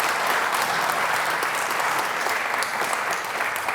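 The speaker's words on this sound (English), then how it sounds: "So another round of applause for Lichfield District Council and Burntwood Town Council." Loud, even applause fills a hall at a community awards ceremony in Lichfield as the audience claps for local district and town councils, a dense, continuous roar of many hands throughout.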